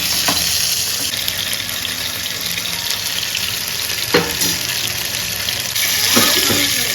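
Paarai fish fries in a pan, giving a loud, steady sizzle and crackle with a few soft clinks, and no talking.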